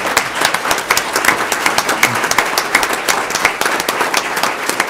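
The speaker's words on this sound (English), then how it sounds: "we ought to stand and give them our applause" A hospital board meeting audience applauds, a loud, steady patter of many hands clapping close by with irregular sharp claps standing out.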